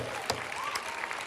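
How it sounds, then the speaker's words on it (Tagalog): A congregation at a church worship service applauds in steady, dense clapping, with a faint voice rising briefly over it. "Mahina yung palakpak na yun."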